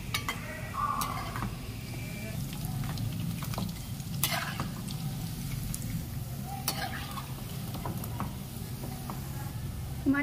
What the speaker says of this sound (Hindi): हमारी सभी मंचूरियंस बॉल फ्राई होके रेडी हैं।